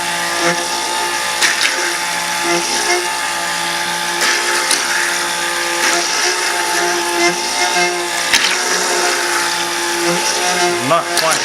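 A hand blender whirs loudly and continuously as it mixes milk soap batter toward trace, a steady motor drone with small shifts in pitch throughout.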